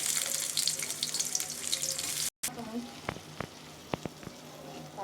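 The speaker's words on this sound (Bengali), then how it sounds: "আমি প্রথমেই পেঁয়াজগুলো দিয়ে দিচ্ছি" Onions hit a hot pan for noodles with a loud, close sizzle that cuts off briefly, then settles into a quieter crackle broken by a few utensil clatters.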